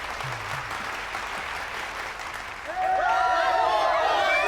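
Audience applause welcoming Rohit, Vishal and Praveen on stage, broad clapping that rises sharply partway through, with a brief tonal musical sound layered over it near the end.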